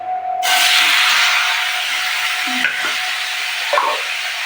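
Fish curry ingredients sizzling in a hot pan, a loud steady hiss that bursts in suddenly and holds, with a few faint clinks of utensils underneath and no voices.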